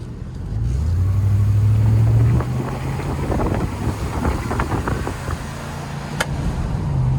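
Low engine rumble from a 2002 Ford E250 conversion van, building loud and steady for a couple of seconds before easing into a rougher idle, with wind buffeting and no speech.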